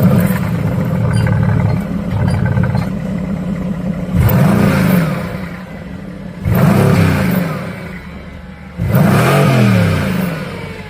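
A Mercedes AMG engine with a loud exhaust idles with a low burble, then blips three times in sharp, deep revs that rise and fall about every two to three seconds, close and loud, at a supercar meet.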